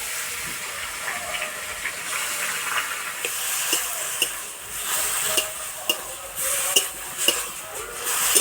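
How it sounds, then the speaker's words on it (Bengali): Grated radish, garlic, ginger and green chilli fry in oil, a continuous hiss and sizzle broken by sharp spatula clacks and scrapes against the pan, growing busier toward the end, close up with no talking. "এবার গ্রেট করা মূলো দিয়ে দেবো।"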